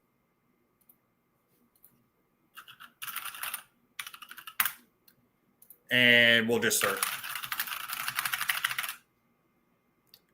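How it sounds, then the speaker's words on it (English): Computer keyboard typing, with short bursts of key clicks followed by a longer steady run of rapid keystrokes, close and clear. Someone speaks briefly at the start. "my sweet typing skills"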